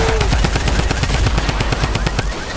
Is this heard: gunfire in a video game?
yes